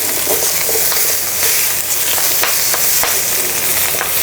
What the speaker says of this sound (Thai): เราจะผัดแค่ผักสลดนะคะ